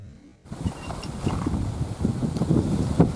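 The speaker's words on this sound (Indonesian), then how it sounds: "Ini bukan angin biasa, tapi fenomena alam." Strong, extreme wind gusts buffet the microphone after a brief quiet start, roaring in uneven surges with some rattling and knocking, loud and close, with no speech.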